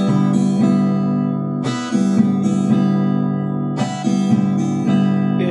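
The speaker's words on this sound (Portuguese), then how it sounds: "Este é o som do rasqueado X." Flamenco-style rasqueado X strumming on a guitar: bright, loud strummed chords in distinct bursts, each ringing and decaying before the next, played up close.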